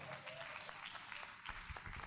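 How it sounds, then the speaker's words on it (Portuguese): Church congregation applauding during a service, a quiet, fairly distant wash of clapping with a few louder claps near the end. "Dê um aplauso pela vida do irmão Morgan."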